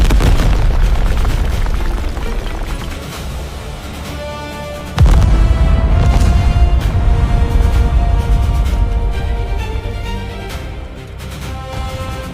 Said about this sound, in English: The greatest cannon ever built had shaken the earth, but it had not broken the city.